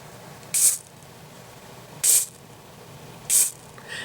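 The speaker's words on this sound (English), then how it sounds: "This is this spray." Three short hissing bursts from a can of hair spray, evenly spaced a second or so apart, close and clear against quiet room noise.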